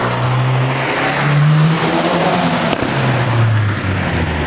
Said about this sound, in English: This car has a sensitive throttle and a touchy clutch.